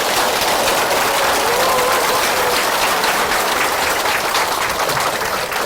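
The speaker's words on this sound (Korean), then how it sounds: "다시 한번 큰 박수를 드립니다" A lecture audience applauds loudly and steadily, the dense clapping filling the room without pause from start to finish.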